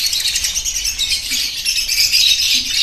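A foster pair of caged breeding birds chirps in quick, continuous high twittering, close by and fairly loud, with no talk.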